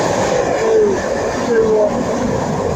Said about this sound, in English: And also passing is the flying 91 Flying Scotsman.